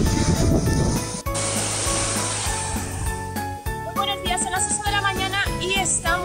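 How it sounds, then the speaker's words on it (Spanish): Ocean waves breaking on the shore at Nusa Lembongan, Bali, in a moderately calm sea; a steady, loud wash of surf that continues beneath other sounds and some background voices. "Detrás de mí están rompiendo un montón de olas."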